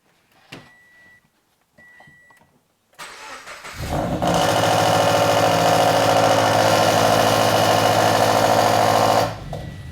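A Subaru boxer engine fires up for the first time after an exhaust overpipe install: a few faint clicks and cranking, then a loud, steady, rumbling idle with a raspy leak-like tone that runs for several seconds before cutting off.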